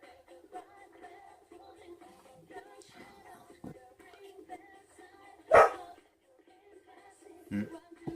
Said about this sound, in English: my dogs just heard something outside. Another dog barking, I think it was.